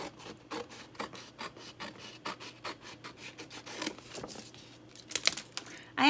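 Scissors or a blade working around a transparent plastic journal cover, giving a series of short rasping snips and scrapes at a quick uneven rhythm, close and fairly quiet, with a louder crinkle near the end.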